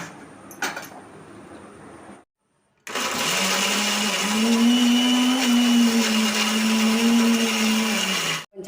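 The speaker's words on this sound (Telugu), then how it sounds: "ఇదంతా మనం మిక్సీ చేసుకుందాం." A kitchen mixer grinder whirs loudly and steadily for several seconds as it grinds coconut, onion, tomato and spice masala for chicken curry, after a short quieter stretch of handling and a brief silence.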